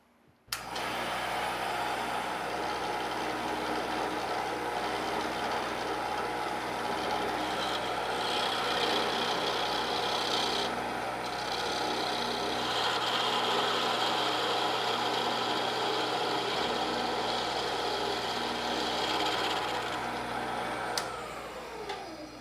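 A Shopsmith lathe turns a wooden paddle, giving a steady, loud machine whir with rising and falling cutting noise that runs nearly unbroken throughout.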